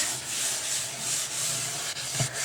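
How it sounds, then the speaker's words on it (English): Light sanding of a stained wooden staircase, a steady hissing rub of abrasive on wood with soft back-and-forth strokes, close and continuous with no talking. "You just want to sand it just a little bit"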